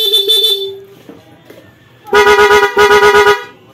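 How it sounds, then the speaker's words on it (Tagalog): A loud stock electric horn on a Honda Click 160 scooter beeps in two rapid series of short, evenly spaced honks, preceded by a fainter tone and quiet murmuring. "Horn nagya po ng stock. Stock, loud."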